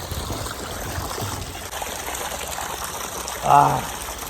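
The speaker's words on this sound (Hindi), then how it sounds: "अरे ये सामने ठंडा ठंडा पानी," Cold water streams from a roadside tap on a hill route, a steady rushing flow heard close, with a brief voice rising over it near the end.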